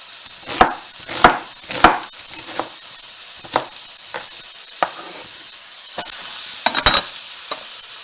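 Carrots and onion braise in a pan with a soft, steady sizzle, broken by several sharp, close knocks and scrapes from stirring or chopping, some in quick clusters.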